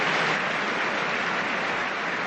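A football crowd applauds Birtles' goal, dense, even clapping spread across the stands with no break, loud and steady throughout.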